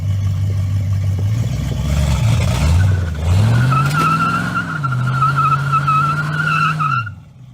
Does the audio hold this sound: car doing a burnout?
yes